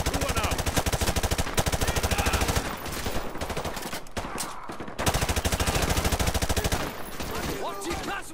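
Heavy gunfire in the game Modern Warfare 2 campaign: dense, continuous automatic weapon fire, loud and close, with rapid rattling bursts filling the whole stretch and a few brief lulls.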